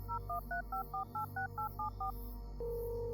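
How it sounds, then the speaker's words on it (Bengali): A quick run of about eleven telephone dialing tones beeps in steady rhythm, followed by a longer continuous tone as the call connects. "আপনারা এক্ষুনি ওখানে ফোন করে দিন"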